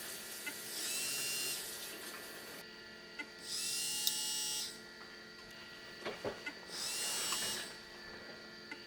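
An Apple 800k 3.5-inch floppy drive mechanism runs after cleaning and lubrication, three separate whirring, buzzing motor cycles of about a second and a half each, quiet, close, with faint clicks between.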